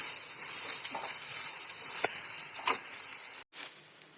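Mango pieces for an instant Tamil-style mango pickle sautéing in a pan, giving a steady, soft close sizzle with a few light scraping clicks from stirring and a brief dropout near the end.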